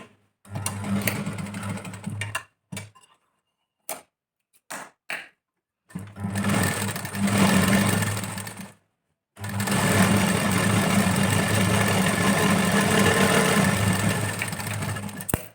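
A sewing machine stitches the lining of a princess-cut blouse in close, steady runs, pausing and restarting several times with brief bursts between longer continuous stretches.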